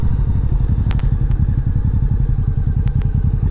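A Honda Shadow V-twin cruiser motorcycle engine idles while warming up, giving a loud, close, steady low-pitched rapid pulsing with a few faint clicks and clatters on top.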